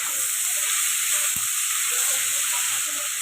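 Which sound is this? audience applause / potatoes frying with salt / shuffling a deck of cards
potatoes frying with salt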